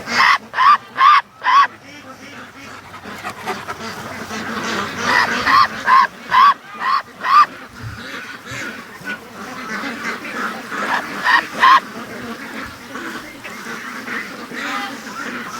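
A blind pet duck quacks loudly and close by in repeated bursts of three to five quacks, with quieter outdoor background noise and occasional faint voices between the calls.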